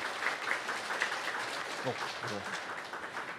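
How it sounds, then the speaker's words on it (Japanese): An audience at a PyCon JP 2022 conference talk applauds in a steady wash of clapping while someone speaks over it. "参加者の方は大きな拍手をお願いいたします"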